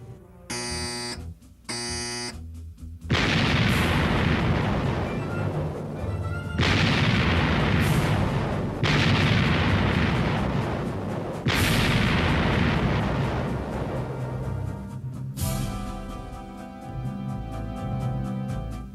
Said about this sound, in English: Turret 1, all guns, 1 round load. Shoot!